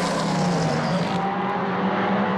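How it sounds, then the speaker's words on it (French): GT race cars roar through the start of a Belgian GT championship race, with a blue Ferrari 430 fitted with a GT3 kit leading. The engine noise is loud, dense and continuous, with no speech. "Au départ, c'est Fred Bouvy qui s'empare du commandement au volant de la Ferrari 430 bleue"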